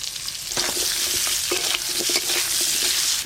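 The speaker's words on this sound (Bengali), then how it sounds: "ঝোলের জন্য আলুগুলো হালকা করে ভেজে নেব হলুদ গুঁড়ো লবণ" Potatoes fry lightly in a pan with turmeric powder and salt for a fish curry, giving a dense, steady sizzle close by with repeated stirring scrapes and no talk.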